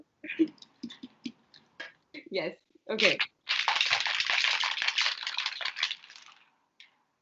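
Ice rattling hard inside a Starbucks glass used in place of a cocktail shaker, mixing a margarita; a steady, loud shaking burst of about two and a half seconds follows brief talk and scattered clinks.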